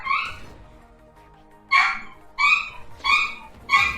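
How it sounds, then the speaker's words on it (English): A dog barks sharply several times in quick succession from the background during a Brawl tournament match stream, loud, irregular yips with no talk over them. "You can hear Nerfed's dog in the back"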